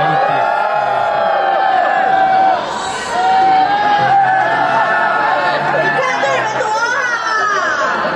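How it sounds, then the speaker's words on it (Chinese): A crowd cheers and shouts at the Taipei International Adult Exhibition, a dense, steady roar of voices with high whoops rising through the hubbub, close and loud throughout. "欢呼声！"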